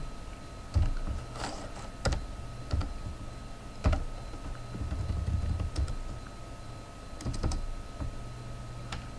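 Quiet, irregular keyboard clicks tapping out a short command on a computer keyboard, a few separate bursts of keystrokes over a low steady hum.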